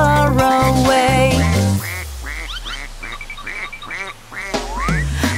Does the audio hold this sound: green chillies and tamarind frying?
no